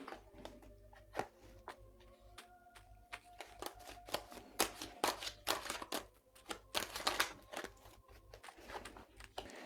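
Tarot cards being shuffled for a three-card draw, close, soft riffling and slapping in uneven bursts, quiet and without talk.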